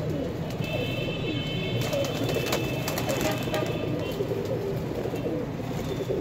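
Pigeons coo steadily over a dense, continuous flock murmur, with brief chirps and wing flutter from a large loft of flying pigeons (kabootar); the birds are close and fairly loud throughout.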